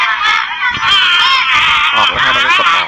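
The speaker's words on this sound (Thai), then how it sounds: "เกม Angry Bird นะครับ" Angry Birds game sounds play from a Samsung Corby II phone: continuous shrill squawking and squealing bird-like voices, loud and busy for the whole stretch, with no speech over them.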